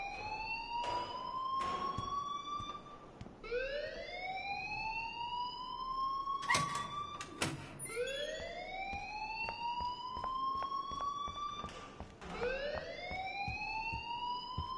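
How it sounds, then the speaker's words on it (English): An alarm rings in the video game Life is Strange, a loud electronic siren that sweeps upward and repeats in steady cycles roughly every three seconds, with no talk over it. "Leave Miss Caulfield alone, and please turn off that alarm since that's your job"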